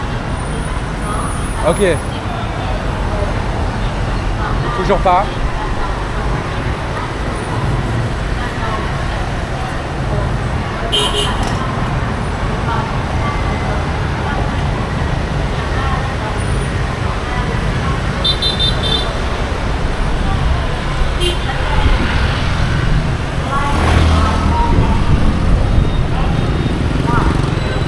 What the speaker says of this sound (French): Ah, beaucoup de voitures.